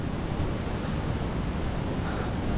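A river rushes beneath a bridge on the route to Lapchi in Dolakha, Nepal, a constant loud broadband roar of flowing water with wind, no pauses and no voices.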